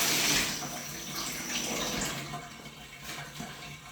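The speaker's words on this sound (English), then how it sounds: "Just rinse it up nicely." Running tap water rinses a SaladMaster bowl in a kitchen sink before a spicy grilled chicken sauce goes in; a steady, close rush of water splashes continuously, slightly louder at first, with no talk.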